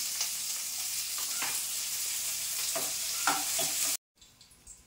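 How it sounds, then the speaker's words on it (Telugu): Onions fry in a little oil in a pan with a steady close sizzle and occasional stirring scrapes, then the sound cuts off abruptly near the end and resumes faintly. "మళ్ళీ ప్యాన్ పెట్టుకొని కొంచెం ఆయిల్ వేసుకుందాం. ఇప్పుడు ఆనియన్స్ వేసుకుందాం."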